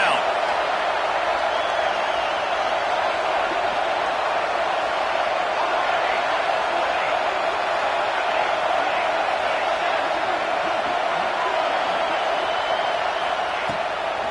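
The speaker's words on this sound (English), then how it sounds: "Decibels rising as the crowd gets behind this defense on third down." Football stadium crowd roaring on a third down, a dense, steady wall of cheering and noise that holds at full loudness throughout.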